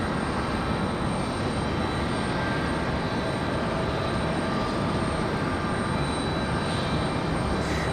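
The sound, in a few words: airliner arriving at Raleigh Durham airport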